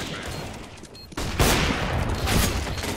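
Gunfire in CS:GO rings out in a sudden burst of loud, close shots about a second in, followed by continued rattling fire and booms to the end.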